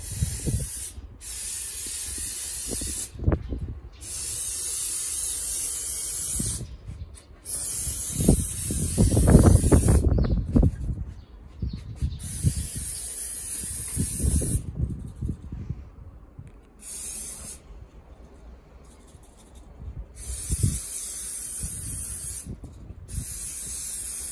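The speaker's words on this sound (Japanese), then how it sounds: "スプレーします。" A 100-yen waterproof spray can hisses in repeated bursts onto a down jacket, loud and close, with short pauses and quieter gaps between sprays.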